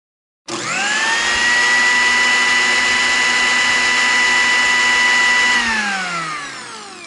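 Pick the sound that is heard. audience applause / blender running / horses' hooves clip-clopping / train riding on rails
blender running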